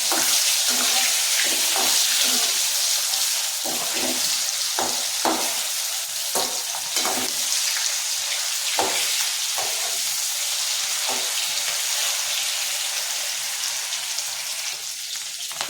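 Chettinad-style chicken 65 pieces deep-fry in hot oil and are turned over, a constant bubbling sizzle punctuated by repeated clinks and scrapes of a ladle in the first half, then a steadier fry.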